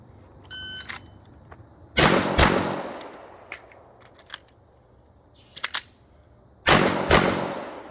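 A Staccato P DPO pistol fires at a seven-yard target in two sharp, loud pairs separated by a reload pause with faint mechanical handling noise, ringing close and hard with no talk between shots.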